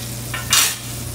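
Carbonara pasta being stirred and tossed in a hot pan in a restaurant kitchen class, a short scraping, sizzling swish that swells and fades within about a second, close and alone.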